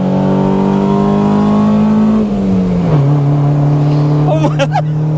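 A VTEC-swapped Honda Civic drives a lap of the Nürburgring, its loud engine drone heard from inside the car, dipping in pitch as it shifts and then holding steady, with brief squeaky sounds near the end.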